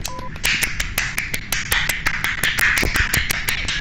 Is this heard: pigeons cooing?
no